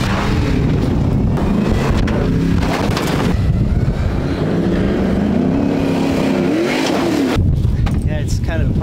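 First-generation Ford Raptor V8 trucks roar and rev hard while off-roading, with loud, throaty engine surges and swells close by and people talking over the noise.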